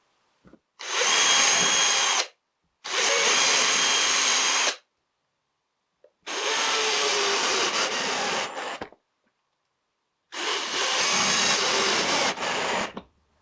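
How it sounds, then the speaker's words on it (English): A power drill drives two reinforcement screws into a wooden router jig, four close loud bursts of whirring, each lasting about two seconds, separated by short silences. "I screw in 2 reinforcement screws."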